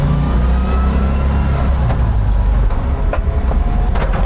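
A 1958 Volkswagen Transporter T2 split-windscreen van's engine drones loud and close while shifting into second gear, a steady low rumble with cabin rattles and faint clicks, with no talking.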